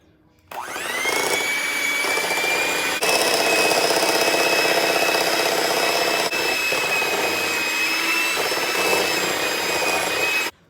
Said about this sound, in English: Going to mix this in until it's well blended.